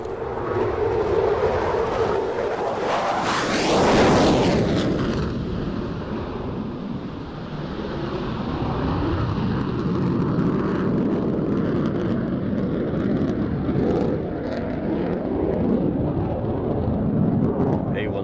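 F-16 fighter jet flying past, a loud roaring sweep that peaks early then trails into a sustained rumbling roar, with a voice talking over it.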